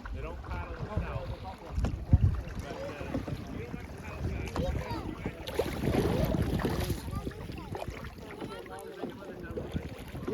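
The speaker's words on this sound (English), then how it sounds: "Alright guys, keep paddling." Sea kayak paddling on open water off Nova Scotia, with soft rhythmic splashes and dips close by, wind buffeting the microphone, and a brief louder surge of water midway.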